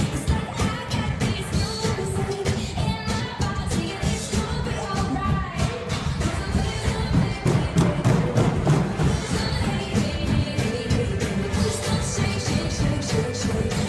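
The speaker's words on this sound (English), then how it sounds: "You just beat the hell out of a ball for 45 minutes" Drumsticks beat rapidly and hard on a yoga ball set on a bucket, a dense, continuous pattern of thuds and taps for a cardio drumming workout, with music-like backing throughout.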